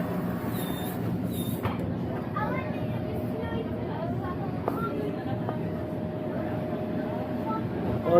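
Interior of the Makkah to Madinah high-speed train, a steady low rumbling hum with faint tones and clinks, while someone talks over it throughout.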